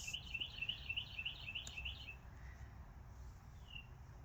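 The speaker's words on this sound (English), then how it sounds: "She heard birds." Small birds chirp in a rapid twittering series that fades out after two seconds, followed by a single faint call, all quiet against low background rumble.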